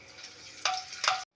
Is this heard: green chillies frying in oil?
yes